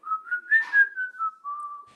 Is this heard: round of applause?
no